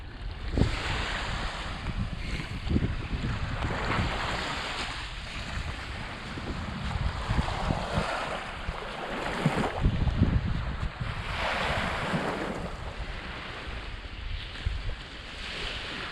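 Waves washing onto a lake beach in Wisconsin, a continuous near surge of surf rising and falling in slow swells, mixed with gusty wind buffeting the microphone.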